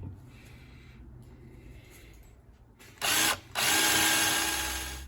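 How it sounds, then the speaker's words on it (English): Power drill boring straight through a steel sway bar disconnect on a Jeep Wrangler YJ, with a quiet lead-in and then two loud, sustained bursts of close drilling separated by a brief pause. "We're going to kind of have to just do our best to go straight through this"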